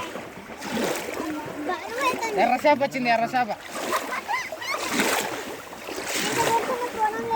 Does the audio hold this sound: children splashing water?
yes